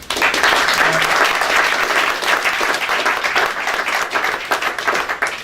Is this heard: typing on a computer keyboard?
no